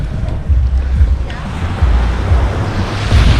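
Surf washes onto Maho Beach, Saint Martin, near an airport, in a loud continuous rush with heavy wind buffeting the microphone and low rumbling surges.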